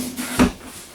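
A full extension drawer in a 2016 Forest River Berkshire XLT diesel RV slides with a single short thump, close by, over a quiet room.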